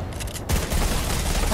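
Fortnite gunfire in a rapid burst, loud and dense from about a third of the way in and continuing to the end, with a quieter rumble before it.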